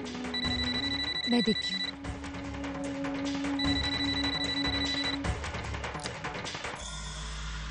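A telephone rings indoors in repeated electronic bursts with pauses between them, fairly clear in a domestic drama scene, while someone speaks briefly over it.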